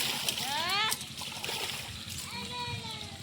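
Water splashes from someone swimming in a Sundarbans waterway, with a voice and other chatter over the sloshing, the splashes close and lively.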